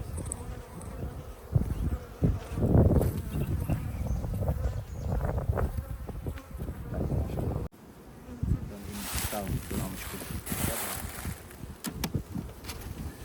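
Dense buzzing of many honey bees at a forest apiary hive surrounds the listener up close, a steady droning swarm with occasional individual insects whizzing past, continuing without talk.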